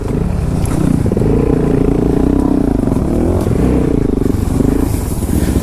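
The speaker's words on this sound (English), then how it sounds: "Hill climb time with a DRZ and a Grom." Loud, steady engine drone from DRZ and Grom motorcycles climbing a hill, revving hard and close, with wind buffeting and rattling throughout and no talk.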